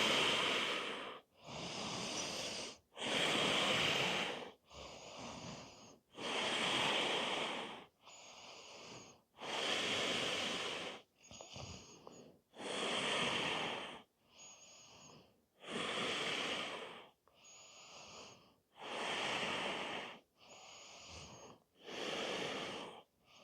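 Loud deep breaths during a face-down shoulder rehab lift, long hissing inhales alternating with exhales in a slow steady rhythm, about a dozen cycles close to the microphone with short pauses between and no talking.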